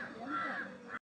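A single crow caws once, close and fairly loud, near a food offering during an Onam puja gathering; the call stretches about a second before cutting off abruptly.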